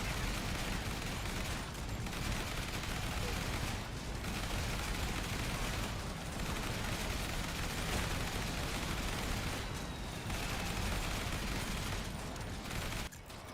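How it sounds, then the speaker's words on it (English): An automatic turret firing in a zombie-slaying roguelite game, a steady, loud stream of rapid gunfire and impacts lasting throughout, with brief dips every couple of seconds and no talking. "Automatic turret."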